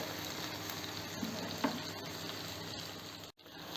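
Tomato slices and green chili fry steadily in a pan over a low flame, giving an even, continuous sizzle with a brief pop near the middle and a short dip toward the end; no voices.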